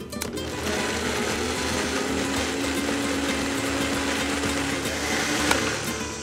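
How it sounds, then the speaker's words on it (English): Blender running steadily to purée green chile adobo with olive oil and salt, a continuous close motor whir with no talking. "Add 2 teaspoons of salt, and then blend it until it's almost smooth."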